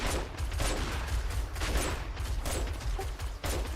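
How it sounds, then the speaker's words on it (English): Rapid bursts of submachine gun fire in 7 Days to Die, a string of quick sharp cracks in clustered volleys over a low rumble, fairly close and loud with no talk. "the SMG puts out bullets so fast"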